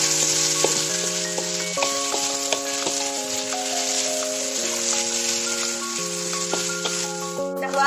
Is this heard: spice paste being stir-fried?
yes